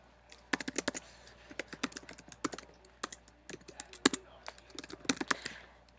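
Someone typing a username and password on a computer keyboard, irregular bursts of crisp key clicks with short gaps between them, close and clear with no talking.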